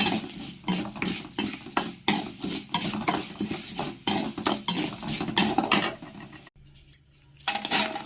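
Urad dal and asafoetida roasting in a pan, with repeated metallic scrapes and clinks of a spoon stirring against the metal, steady and fairly close, pausing briefly near the end before resuming.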